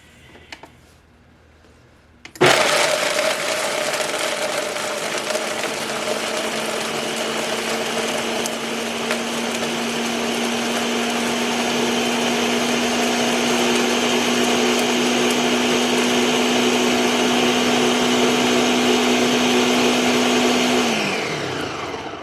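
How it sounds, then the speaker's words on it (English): A blender purees vegetarian, vegan-friendly pot pie filling ingredients, switching on abruptly with a loud, steady high-pitched whir that holds for nearly twenty seconds before winding down. "we're just going to simply blend our ingredients here until these are nice and smooth and creamy"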